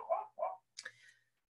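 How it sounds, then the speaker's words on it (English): A dog gives two short barks, then a higher whining yelp, close and fairly quiet, with silence between. "I apologize about my dog"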